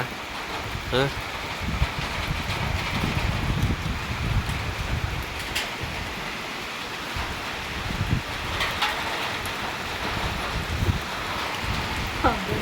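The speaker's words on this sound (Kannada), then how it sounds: "ನೋಡಿ ಎಷ್ಟು ಮಳೆ ಬರ್ತಾ ಇದೆ" Heavy rain pours down near a Shirdi Sai Baba temple in a constant broadband hiss, with faint voices murmuring underneath.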